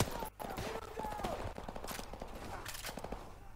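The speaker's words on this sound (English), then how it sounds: "Stop shooting at me." Rapid gunfire rattles in the Call of Duty Modern Warfare Remastered campaign, with dense automatic bursts and scattered shots continuing steadily throughout under a busy game soundscape.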